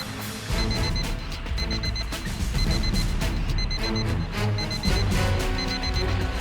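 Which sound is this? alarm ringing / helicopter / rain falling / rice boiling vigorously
alarm ringing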